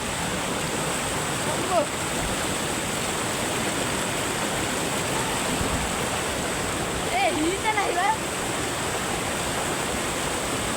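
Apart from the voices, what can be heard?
river water flowing over rocks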